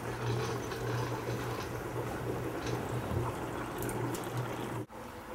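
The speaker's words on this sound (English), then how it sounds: "The water pump cycles water into the other side of the reservoir so that the system is fully flowing." A small water pump circulates water into the far side of a hydroponic bucket reservoir, giving a steady close bubbling, trickling flow with a constant low hum that runs throughout and cuts out briefly near the end.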